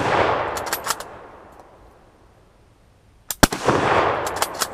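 Gunshots at a gun range, a loud sharp report with a long decaying echo, then another sharp blast followed by a rapid pair of shots and their reverberation.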